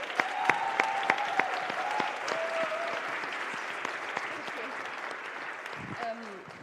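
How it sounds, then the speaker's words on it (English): Warm audience applause fills a conference plenary hall as a young speaker is welcomed onto the stage, with steady, crisp clapping that slowly fades near the end. "So please have a warm applause for Laura here on the stage."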